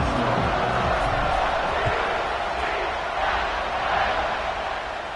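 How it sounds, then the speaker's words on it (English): Football stadium crowd in College Football 25 keeps up a loud, continuous roar and buzz after a score, dense and unbroken for several seconds. "this crowd is buzzing after that last score"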